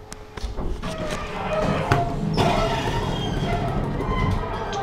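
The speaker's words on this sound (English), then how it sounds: "Door close button works" A Montgomery hydraulic elevator door at Disney's Boardwalk Inn closes with a solid thud partway through, followed by a steady low motor rumble close by.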